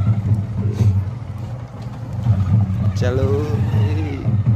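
A motorbike is ridden toward a Dair tribal festival of the Bhokta Samaj, its steady engine drone running throughout while someone talks over it.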